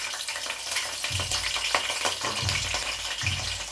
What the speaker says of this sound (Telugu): ఇప్పుడు చికెన్ని మాత్రం కొంచెం ఫ్రై చేసేసుకోవాలి